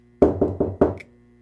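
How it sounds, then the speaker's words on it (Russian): Someone knocks on a front door four times in a quick, even rhythm. The knocks are loud and close, and quiet follows. "я снова услышал этот стук."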